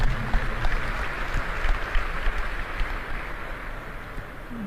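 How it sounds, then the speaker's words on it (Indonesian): An audience at an Islamic lecture gathering applauds, a continuous wash of clapping with a low rumble underneath, holding steady and then gradually easing. "Nah, boleh berikan tepuk tangan ya."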